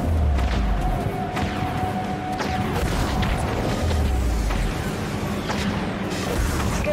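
Heavy booms, crashes and weapon fire from a large spaceship battle in the video game Dreadnought roll on continuously, loud and dense, with missile launches blending into rumbling explosions.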